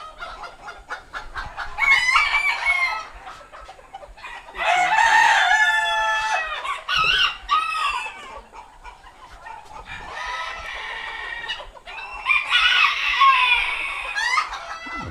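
Cochin bantam hens and other fancy chickens cluck in a busy run, with bursts of calls and a crow-like cry rising and falling across the whole stretch, fairly close and with no talking.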